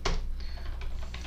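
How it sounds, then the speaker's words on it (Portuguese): A few quick clicks of keys tapped on a computer keyboard during coding, close and sharp with an uneven rhythm. "aqui digitando app"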